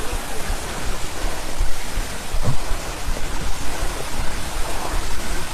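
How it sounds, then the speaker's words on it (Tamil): A continuous rushing roar of a waterfall on the hill at Tiruvannamalai, broad and steady with slight swells, filling the scene with no voices. "இந்த அருவி சத்தம் தாங்க கீழே வரைக்கும் கேட்குது"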